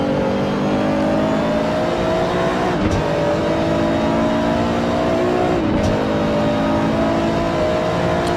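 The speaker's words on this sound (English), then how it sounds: "On board with Jack Ivy, driving the Nismo GTR GT3 car here tonight." A Nismo GT-R GT3 race car engine drones loudly and steadily in a racing video game at Bahrain, pitch climbing through the gears with two brief shift dips, alone without talk.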